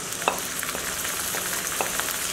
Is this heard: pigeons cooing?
no